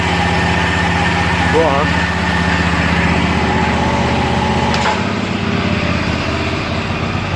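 Garden tractor engine with a pressure washer pump mounted idles steadily and close, a constant mechanical drone with a brief speaking voice over it.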